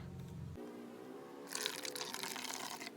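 Quiet, steady splashing of water being poured into a bottle, starting about halfway through after a low hum fades out.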